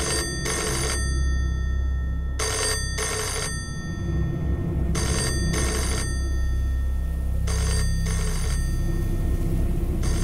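A telephone rings repeatedly while calling a forest check post, giving four pairs of double rings at a steady rhythm over a constant low background hum, with no one answering.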